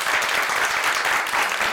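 Brief burst of applause from a small group at a portrait photography shoot, a dense, even patter of clapping filling the short moment.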